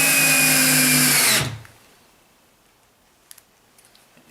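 A power drill drives screws into a shed, a loud steady whirring burst lasting just over a second before stopping abruptly, followed by quiet with a few faint clicks.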